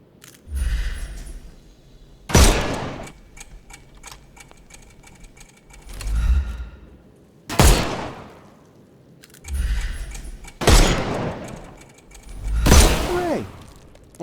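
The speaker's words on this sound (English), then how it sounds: "Shoot off their armour." Gunshots from the Sherlock Holmes Chapter One video game, a series of sharp, loud cracks spaced a few seconds apart, each followed by a short ringing tail and mechanical rattles.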